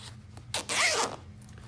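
A coat zipper is pulled under tension in one quick, loud rasping run lasting about half a second, preceded by a couple of faint clicks and handling noises.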